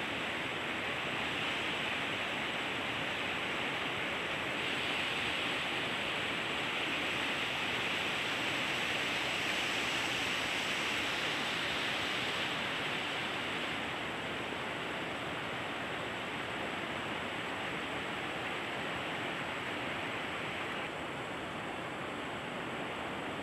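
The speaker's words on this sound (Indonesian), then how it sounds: "Yang bunyi air sungai itu." Steady broadband rush of river water flowing near a village durian orchard, continuous and fairly loud throughout with no talk.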